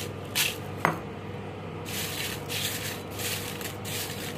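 Crisp samosa chips dusted with pepper powder and black chaat masala are tossed in a bowl, giving soft rustling, rubbing bursts and one sharp clink against the container.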